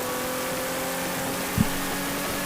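The onboard engine of a Hyundai Genesis Coupe race car during a touring car race at Miller Motorsports Park, a loud, steady engine drone with one brief bump partway through.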